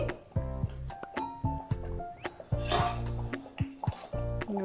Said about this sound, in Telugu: ఫ్రెండ్స్ నేను మూత పెట్టేస్తున్నాను